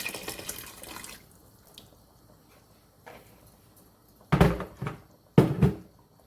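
Hot water is poured into a pot of chicken nihari in a home kitchen, with two short, loud splashing bursts near the end after quieter kitchen clatter.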